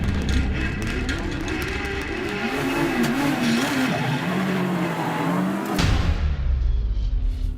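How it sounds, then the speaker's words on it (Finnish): A Toyota rally car at speed during a 2017 competition stage in the Czech Republic, its engine roaring and shifting pitch as it accelerates, loud and continuous with a brief surge near the end. "näytetään yksi pieni Toyota ajo. Tämä on ihan kilpailun tuoksinnassa."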